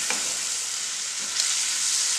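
Fish sizzling in a hot pan with no water, cooked for a traditional Sri Lankan curry-and-rice dish: a loud, continuous close hiss with a couple of faint stirring scrapes.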